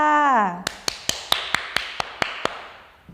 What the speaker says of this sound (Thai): ปรบมือให้ตัวเองหน่อยค่ะ